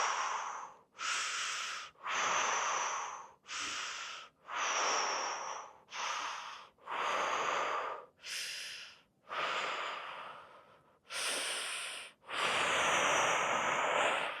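Slow, deep breaths during a fascial stretch, about ten airy inhales and exhales in a steady rhythm with short pauses between, close and fairly loud.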